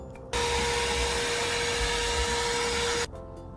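A vacuum cleaner cleans the interior of a car. It switches on with a sudden steady roar, runs loud and unbroken for close to three seconds, then cuts off, with no speech.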